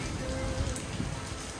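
Rain falls steadily near an airport, a faint, even patter on surfaces with no talk over it.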